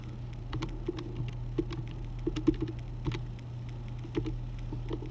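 Typing on a computer keyboard: quick, faint, irregular key taps and clicks over a steady low electrical hum, close by, with no talking.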